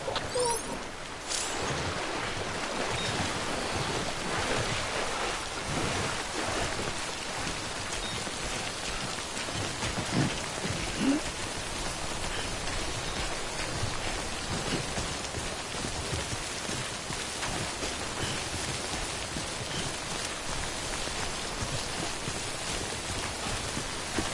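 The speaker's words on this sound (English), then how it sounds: "out in the rain any longer than you have to" Steady, dense rainfall from the video game Death Stranding on PS5, a constant close patter on surfaces that fills the whole stretch with no voices.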